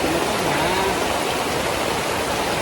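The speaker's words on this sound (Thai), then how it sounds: "ลงหนักมากนะครับเพื่อน ก็เปียกฝนอีกแล้วนะครับ" Heavy rain pours steadily at a mountaintop campsite, a loud, dense hiss of drops close by with no letup.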